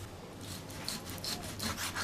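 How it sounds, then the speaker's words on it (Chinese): A kitchen knife slices through pork belly on a cutting board, giving a string of close, rasping strokes in a steady back-and-forth rhythm with no talking. "下面我们把这个五花肉给它切一下"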